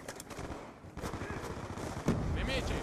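Rifle gunshots in the video game Black Ops 2, a quick run of sharp cracks with a dense burst near the end, fairly faint, with talk over them.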